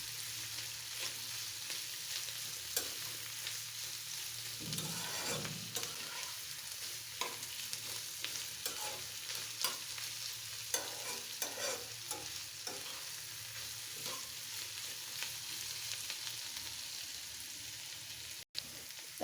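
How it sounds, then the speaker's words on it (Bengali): Shrimp and bitter melon stir-fry in a pan, with a spatula scraping and turning the food in irregular strokes over a low continuous sizzle, fairly quiet and with no one talking. "এখন উল্টিয়ে পুলটিয়ে দিব।"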